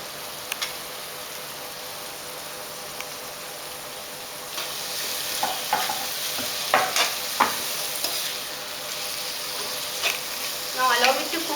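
Diced carrot and capsicum fry in a tomato-onion masala, a steady sizzle beneath intermittent scraping and stirring clicks that grow busier toward the end.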